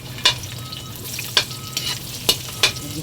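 Garlic sautés in a pan for ginataan kalabasa, a continuous close sizzle broken by several sharp scraping stirs of a utensil, with no voices.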